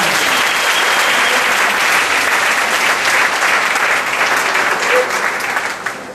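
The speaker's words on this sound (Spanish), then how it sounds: "Aplauda al Señor en esta mañana." A congregation applauding during a Spanish-language church service, loud, dense and continuous throughout, tapering slightly at the very end.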